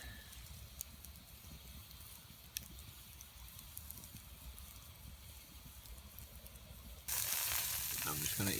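A steak sizzles on a grill over a campfire at a solo debris-shelter camp, a faint, steady frying hiss with occasional pops that grows noticeably louder toward the end.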